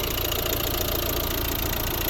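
A 2012 Volvo V60 Ocean Race with a 1.6 diesel engine idles steadily, a close, continuous mechanical hum with a faint knocking texture and no voices over it.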